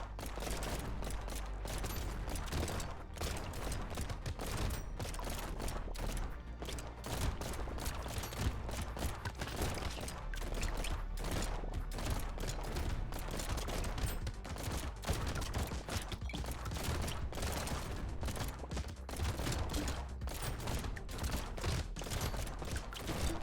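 Dense, continuous gunfire from a double-barrel shotgun and an automated turret in the video game Necrosmith, rapid overlapping shots and bursts running steadily throughout at a loud, even level with no talking.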